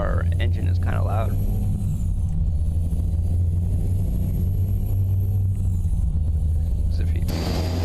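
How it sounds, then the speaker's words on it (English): A loud truck engine drones steadily in a modded convoy truck-driving video game starting in Frankfurt, Germany, with a constant low rumble filling the clip under occasional faint game sounds. "By the way, our engine is kind of loud."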